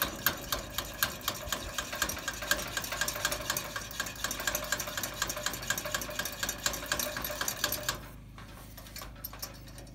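Hand pump on a Coleman camp stove fuel tank, worked in a fast, regular rhythm of clicking, knocking strokes that stops near the end, close and fairly loud, with no talking.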